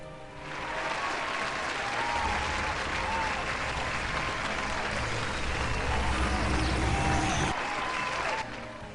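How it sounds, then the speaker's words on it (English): A crowd applauds steadily for several seconds, a dense wash of clapping that swells in and then fades out. "I didn't think that many people would applaud for that, actually."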